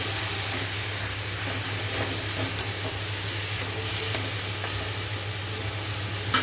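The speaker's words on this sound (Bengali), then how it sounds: "স্বাদ মতো আমি লবণটা দিয়ে দিলাম দিয়ে ভালো করে নাড়াচাড়া করবো" Salted tomatoes hiss and sizzle steadily in a hot pan, with faint stirring scrapes and light clicks of a spatula, close and continuous.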